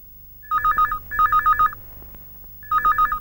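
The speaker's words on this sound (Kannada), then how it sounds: "ಸರ್, ರಿಂಗ್ ಆಗ್ತಾ ಇದೆ, ತಗೊಳ್ಳಿ." A telephone rings in three bursts of rapid warbling electronic trills, each about half a second long, with a gap before the last; a low background hum sits underneath and no one speaks.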